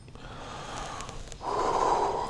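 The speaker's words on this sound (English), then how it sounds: "And let's take a deep breath." A long, slow inhale through the nose during a guided meditation, a soft airy breath that swells and grows louder halfway through, close and alone without talk.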